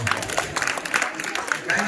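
Clapping from an audience at a school annual prize distribution ceremony for children, brief and fairly close, mixed with people talking over it.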